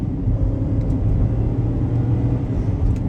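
A GMC Terrain V6 under hard acceleration gives a steady, full engine and road rumble from inside the cabin, holding strong without a break.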